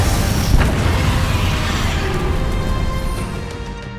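A Confringo fire spell blasts against a dragon in Hogwarts Legacy, a loud, dense rumbling explosion that roars continuously and slowly fades toward the end.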